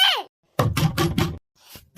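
Four quick, firm knocks land on a house door in an even burst, close and sharp, with a voice speaking briefly before and after.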